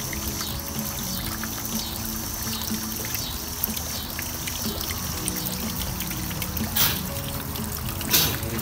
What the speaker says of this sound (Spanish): Ahí está, va cayendo el agua.